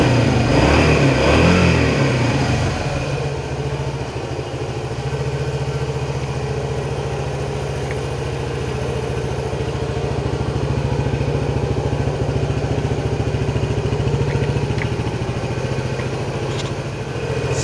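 Engine of a 1976 Honda XL175 motorcycle running close by, a loud rev at the start settling into a steady, throbbing idle with slight swells, no talking.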